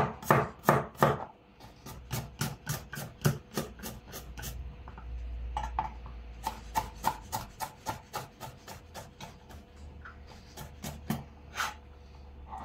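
Two garlic cloves chopped with a knife on a board, a rapid run of sharp, close taps in quick bursts with a short pause between them, fairly loud and with no talking.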